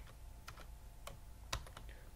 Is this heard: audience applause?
no